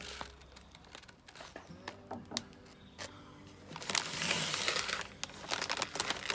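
Close crinkling and rustling of a plastic vacuum bag as a roast beef is packed into it, with irregular crackles that grow denser and louder toward the end.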